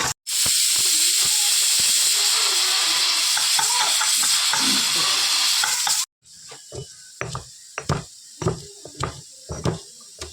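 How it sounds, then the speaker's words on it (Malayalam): Grated coconut frying in a pan gives a loud continuous hiss and sizzle for several seconds, then drops to quieter intermittent scraping and stirring clatters with short gaps. "അപ്പോൾ നമുക്ക് തേങ്ങ ഇട്ട് കൊടുത്ത് ഇളക്കി കൊടുക്കും."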